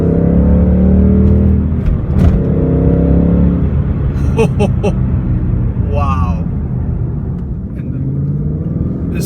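The engine of a 2016 Ford Mustang GT Premium Performance Package revs and accelerates on the road with a loud, deep rumble that rises early and then settles, while someone talks and exclaims over it.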